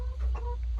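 Hens on a farm cluck softly in a short burst, several brief calls close by, with no talking.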